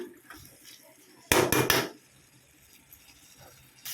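A spoon knocks and scrapes against a pot of tomato curry in a short loud burst of clatter, then quieter faint scraping follows in a home kitchen.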